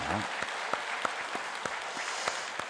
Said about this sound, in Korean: 한 해를 지켜주신 하나님께 감사하고 또 새해를 준비하게 하신 하나님께 감사와 영광의 박수 올려드릴까요?